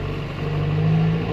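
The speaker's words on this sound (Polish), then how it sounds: "Obroty na silnik." A John Deere 6105R tractor engine drones steadily with a low, sustained hum that rises slightly in pitch as the revs build, loud and close, no voices.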